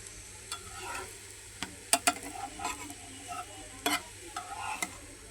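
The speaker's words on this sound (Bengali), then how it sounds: "এটা ভাজলেই হয়ে যাবে আমার ভাজা" Egg roti frying in a pan, with a soft steady sizzle broken by scattered sharp clicks and scrapes from a utensil, close and moderately quiet, with no talking.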